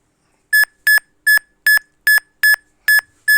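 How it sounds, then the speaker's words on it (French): A sharp electronic beep from an Android phone detector app repeats eight times at a steady, quick rhythm, loud and close, with near silence between beeps. "ça émet le bip sonore automatiquement"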